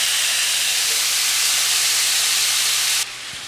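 Diced potatoes, about four cups, sizzle in a skillet with oil and butter, a steady loud hiss that holds evenly and then drops abruptly near the end.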